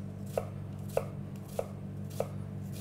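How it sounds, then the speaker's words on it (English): A knife slicing shallots thinly on a board, five evenly spaced crisp chops about every 0.6 seconds, close and clear over a low steady hum. "So slice lengthways first, and then through the middle."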